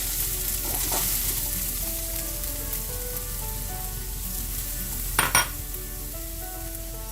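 Onions sautéing in hot oil in a pan, a continuous close sizzle with occasional stirring and a brief clatter of utensil against the pan near the end.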